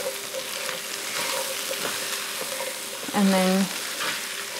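Garlic frying in a pan while being stirred gives a steady close sizzle with scraping under it and a short tonal clank partway through, and a voice speaks briefly at the start.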